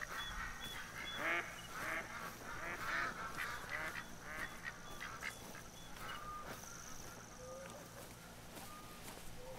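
Ducks quack and honk in a night hunting scene in the video game theHunter: Call of the Wild. Repeated nasal calls sound at a middle distance over a steady ambient wash of outdoor background.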